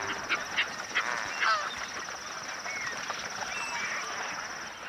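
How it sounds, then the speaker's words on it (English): A large flock of flamingos calls across Lake Nakuru, a vast soda lake, with a scatter of honking cries rising over a steady wash of background noise. "Lake Nakuru, a vast soda lake, supports huge flocks of flamingos and other bird life"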